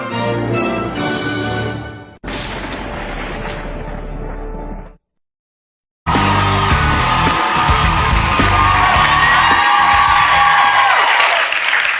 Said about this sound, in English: It's amazing how loud people clap when they do this.